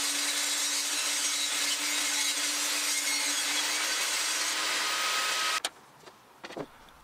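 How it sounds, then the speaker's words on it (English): A saw cuts a strip from an oak board with a loud, steady whining rasp held for several seconds. It then cuts off abruptly, followed by a few faint knocks and handling sounds. "I run it through the saw again, which frees up a small strip from the topmost board."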